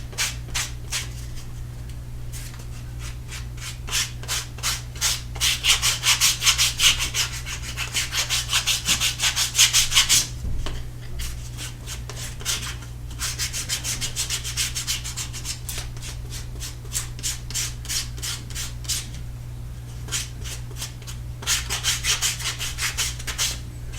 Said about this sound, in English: Now I'm just going to take some sandpaper and just make sure these edges are nice and straight.